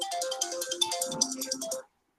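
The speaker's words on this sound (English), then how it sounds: "Someone calling me and I can't answer that phone right now." A phone ringtone plays a short bright melodic tune of repeated chiming notes, loud and clear, for under two seconds before cutting off abruptly into silence.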